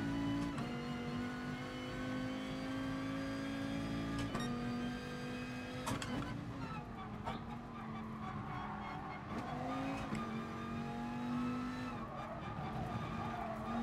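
Dodge Viper Group 3 race car in Gran Turismo Sport with a steady, loud engine drone that holds a constant pitch, dips briefly around gear changes, and carries on without any talk.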